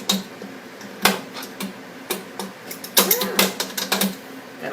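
A KitchenAid stand mixer runs with a low motor hum under irregular clacking and tapping as the beater knocks against the bowl of pumpkin whoopie pie batter, loud and close.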